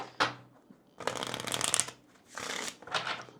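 Kipper cards being shuffled by hand at a tarot reading: a brief riffle, then two longer bursts of rapid fluttering card noise, close and moderately loud, with no talk.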